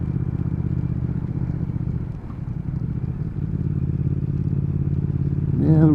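A 2019 Triumph Speed Twin motorcycle engine drones steadily while riding at about 2000 rpm, a close, loud, even rumble that briefly dips and then swells as the revs climb at the end.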